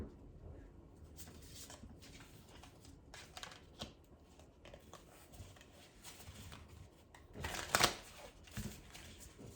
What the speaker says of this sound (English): we are going to pull the cards now